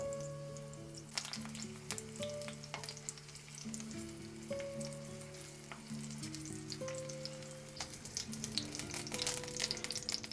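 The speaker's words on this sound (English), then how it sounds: "I'm going to put in 2 pieces of onion like that. And my garlic clove that I mashed because I wanted to release its flavor into the oil" Onion pieces and a mashed garlic clove sizzle steadily in hot oil in a pan, a continuous crackling fry with soft scattered pops, heard close up with no talking.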